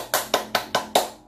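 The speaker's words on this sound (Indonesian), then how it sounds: "Ya, tepuk tangan dulu." Five sharp, evenly spaced hand claps ring out close and loud in a steady rhythm during a school lesson with children, each clap crisp and distinct, with no talking.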